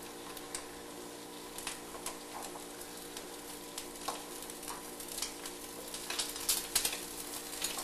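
Eggs with cheese frying in a pan during a power outage drill, a steady close sizzle with occasional ticks and stirring scrapes, no talk.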